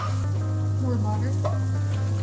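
Butter sizzles steadily in a pan alongside carrots while pancit canton noodles are being made, a continuous close frying hiss with faint stirring clatter.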